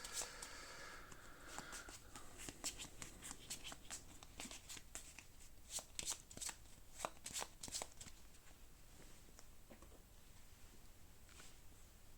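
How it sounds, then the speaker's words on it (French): A deck of cards being shuffled by hand during a card game session, a steady run of quick riffling flutters and soft card slaps close by for most of the clip, with no talk over it. "On va les mélanger un petit peu quand même."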